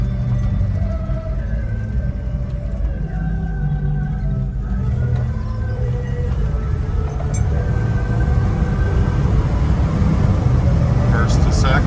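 A 1978 Ford F250 pickup runs steadily with its engine droning loud and close throughout, the pitch rising and dropping as it shifts from first to second to third, with a radio playing faintly in the cab and wind noise.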